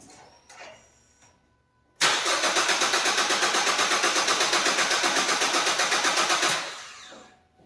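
Car engine cranking over on the starter with the injectors shut off and the throttle floored for a relative compression test: a loud, steady, even rhythmic churn of about four and a half seconds after near silence, then stopping.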